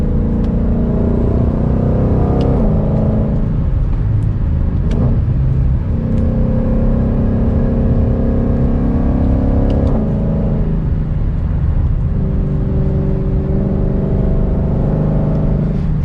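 A 2021 Ford Mustang Shelby GT500 driving on back roads, its engine a loud, continuous deep rumble that swells and eases as it accelerates through shifts, heard close from inside the cabin with no talk.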